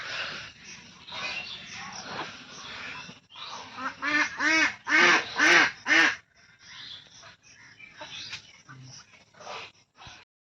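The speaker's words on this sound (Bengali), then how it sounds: "হাঁসের বাচ্চাগুলো আবার আসছে এদিকে।" Ducklings quacking close by in a rural yard, a run of loud nasal repeated calls bunched in the middle with quieter scattered quacks before and after.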